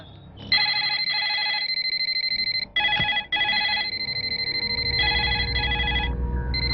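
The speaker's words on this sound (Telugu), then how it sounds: "కోటేశ్వరరావు గారు, లిఫ్ట్ చేయండి." A telephone rings in repeated bursts of bright bell tones, loud and close, with brief gaps between rings during a courtroom climax scene in a Telugu film.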